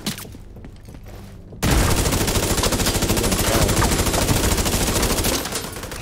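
Sustained automatic gunfire from a firefight in the video game The Division 2, loud and dense bursts that start abruptly after a quieter stretch and continue without a break, with no talk over them.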